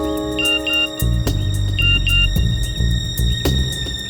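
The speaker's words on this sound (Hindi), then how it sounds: "फोन बजा।" A mobile phone ringtone chirps in short, repeating electronic bursts during a tense scene in a Hindi crime drama, layered over dramatic background music.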